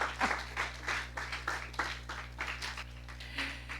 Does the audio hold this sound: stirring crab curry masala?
no